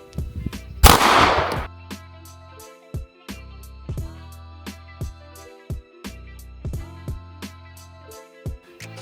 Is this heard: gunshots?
yes